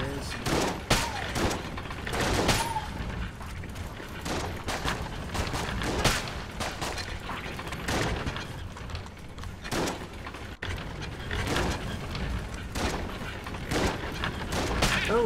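Rapid gunfire and bursts from Enter the Gungeon rattle continuously, with bullets pinging and bouncing around in dense, irregular volleys at moderate loudness, while a voice talks at points.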